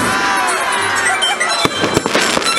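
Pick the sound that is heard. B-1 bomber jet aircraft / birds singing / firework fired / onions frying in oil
firework fired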